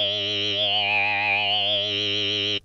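A sustained, buzzy wavetable synthesizer tone from Massive with a gently wavering, chorused timbre, holding steady and loud for a couple of seconds before cutting off abruptly.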